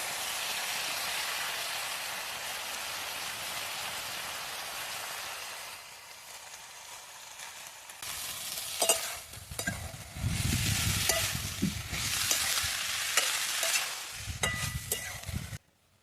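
Moringa flowers added to a pan and stir-fried for a vegetable dish, with chopped tomato already in; a steady sizzle carries on alone, then gives way to bursts of spatula stirring and scraping against the pan.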